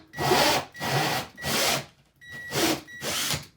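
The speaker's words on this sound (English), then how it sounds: "so just angle that drill slightly" A power drill boring an angled pilot hole for a Mr Cool heat pump air handler installation: four steady, loud bursts of whirring and grinding close by, separated by short pauses, with no talk.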